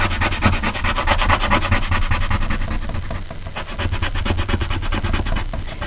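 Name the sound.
table shaking and rubbing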